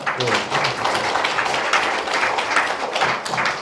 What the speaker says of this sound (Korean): 여러분 모두에게 박수 한번